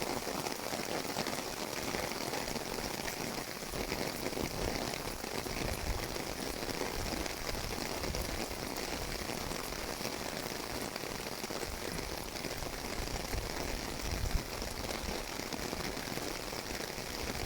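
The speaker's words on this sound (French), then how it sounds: "La pluie est extrêmement violente. De plus en plus." Extremely violent heavy rain pours down in a steady, dense hiss with no letup, loud and continuous throughout, during a storm in the Rhône-Alpes region.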